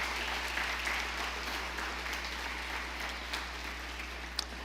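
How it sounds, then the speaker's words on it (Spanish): Steady, moderate applause from a church congregation during a sermon, an even patter of many hands over a constant low hum, with a sharp clap near the end. "Dele un aplauso al Señor, porque Dios está de su lado."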